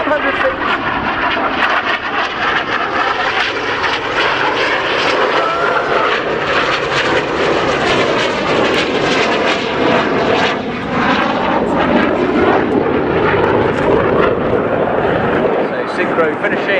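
Red Arrows jets flying double rolls at an airshow, a loud continuous roar of jet engines sweeping and shifting in pitch throughout, with a commentator's voice running over it.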